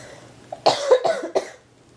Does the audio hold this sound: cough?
yes